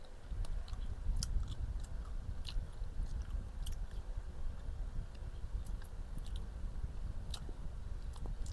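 Someone chews mixed dried fruits at close range, a steady soft mashing with small sticky clicks and crunches running throughout, quiet and without talk.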